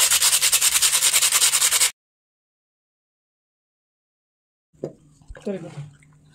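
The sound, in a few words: sanding a clay pot with sandpaper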